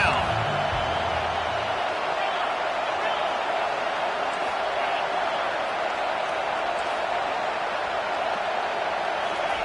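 A home crowd roars throughout a college football game as the defense tries to get off the field on third down, a steady, dense wash of stadium cheering with no break.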